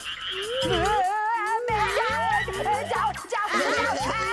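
Cartoonish frog croaks from a Ninja Hattori cartoon repeat in a bouncy rhythm under warbling, sliding voice-like tones, loud and close.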